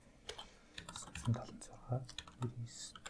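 Fingers type on a computer keyboard, producing irregular, close key clicks and taps in quick clusters while a person speaks over them.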